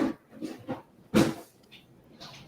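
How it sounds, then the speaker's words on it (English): Dogs in a room next door give a few short muffled barks and whimpers in quick bursts, fairly faint, with one louder bark in the middle. "my dogs are in the room next door and they've decided to bark right when"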